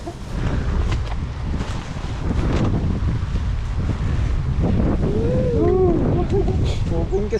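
Strong wind buffets the microphone outdoors with a steady rushing roar, while people talk and a voice rises briefly.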